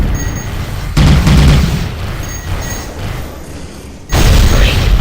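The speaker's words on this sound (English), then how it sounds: "Now that was an explosion, folks." A deep booming explosion from the space combat game Tachyon: The Fringe bursts in loudly, fades through a rumbling tail, then a second heavy blast hits near the end.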